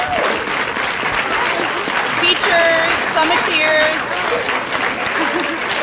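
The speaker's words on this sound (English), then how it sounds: "let's give them a round of applause" Conference audience applauds a group of teachers at a plenary session, a dense steady clapping wash filling the room throughout, with someone speaking over it near the microphone.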